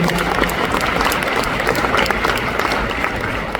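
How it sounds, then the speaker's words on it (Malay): A large crowd at an Amway recognition mega rally in Kuala Lumpur applauds, producing loud, dense, continuous clapping with a cheering crowd murmur underneath. "Tepukan sekali lagi untuk ayahanda dan bunda."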